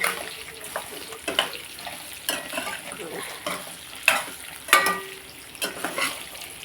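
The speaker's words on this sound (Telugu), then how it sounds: "కొబ్బరి మొక్కలు కొద్దిసేపు వేపేసుకుని" Coconut pieces sizzle in a pan while being stirred, with soft frying hiss broken by repeated clinks and scrapes of a utensil against the pan, close and moderately loud.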